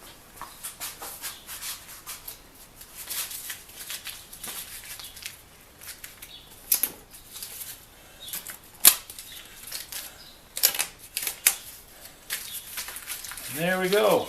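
Tape peeled off a Briggs & Stratton Brute power washer with a Honda engine, heard as close, dry ripping and crackling bursts that come and go across the clip, louder toward the end.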